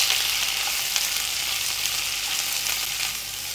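Onion pieces frying in a pan for a Pyaj Besan sabzi, giving a steady, even hiss that holds at a constant level from start to finish, close and loud, with no voices.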